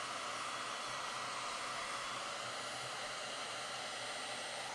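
A heat gun on a low setting strips paint from a 1980s Japanese Tokai guitar, giving a steady, loud blowing whoosh that runs evenly and alone from start to finish.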